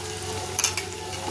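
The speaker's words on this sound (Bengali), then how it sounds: "বড়াগুলো ভেজে এবার বড়াগুলো উল্টে দেবো" Vegetable pakoras made with gram flour batter frying in oil over a low gas flame, giving a soft continuous sizzle with a couple of brief clinks partway through, close by and without speech.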